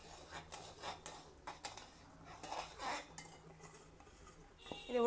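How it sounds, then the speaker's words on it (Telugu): Roasted semolina stirred into boiling syrup in a metal pot, with a spoon scraping and clinking against the sides in a steady, close, fairly quiet rhythm and a sharper knock at the end. "ఈ వేయించిన రవ్వ కూడా వేసి కలుపుతూ రవ్వ వేస్తూ కలపాలి."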